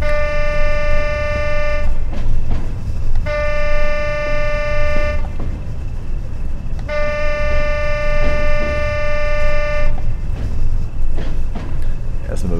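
A train horn sounds in Train Sim World 2 on the Tees Valley Line, three loud sustained blasts spaced a second or so apart over steady rumbling engine and rail noise.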